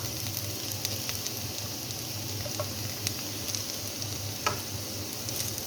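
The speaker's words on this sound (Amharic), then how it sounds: "የተከተፈውን ዝንጅብልና ነጭ ሽንኩርት እጨምራለሁ።" Chopped ginger and garlic fry in a pan for a Chinese-style dish, giving a steady, fairly quiet sizzle with scattered faint crackles and no voices.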